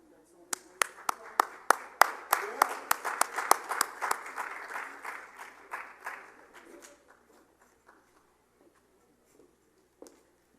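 Audience applause for a panel moderator at a Zoroastrians in Media event, a burst of sharp claps building to a full round and then thinning out over several seconds, ending in a few stray late claps.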